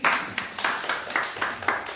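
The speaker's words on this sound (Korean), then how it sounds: "박수 한번 해주세요." A church congregation claps during Sunday worship, a brief round of uneven, close hand claps pulsing in quick bursts across the room with no talk over it.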